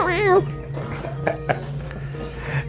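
A person playing Psychonauts voices a strained, wavering cat yowl, imitating a cat whose tail is stepped on, in one short burst, followed by other voices talking and laughing.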